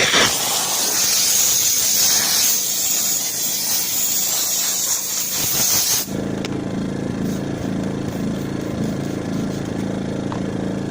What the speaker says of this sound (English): The steam will kill any germs, any bacteria, anything that was in there.